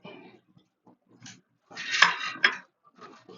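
Ceramic dishes clink and clatter in short bursts, with a couple of sharp plate knocks standing out near the middle, close and fairly loud.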